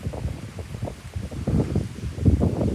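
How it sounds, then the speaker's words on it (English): Strong wind gusts and hard rain from a severe thunderstorm roar against the microphone, a loud, rumbling buffeting that swells and surges without pause. "It's raining hard right now and it's windy."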